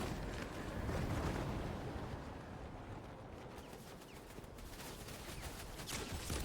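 Dense, continuous gunfire from the video game Fortnite, a steady rattling barrage of shots that fills the whole stretch with no voices.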